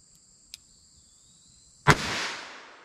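A single loud .38 Special gunshot from Winchester white box 130 grain full metal jacket ammunition, a sharp crack with a long decaying tail, preceded by a faint click.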